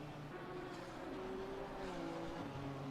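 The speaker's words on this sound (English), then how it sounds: "I heard a car's engine drop." Race car engine at the Mount Panorama endurance race, heard as a faint, distant, steady engine drone with a wavering pitch that falls away.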